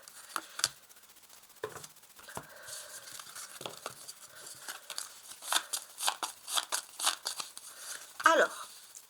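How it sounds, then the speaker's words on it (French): Tarot cards being drawn from a deck for a reading, giving a run of crisp papery flicks, slides and taps close by, some soft and some sharper, with a faint voice at times. "je vais tirer ici 4 cartes"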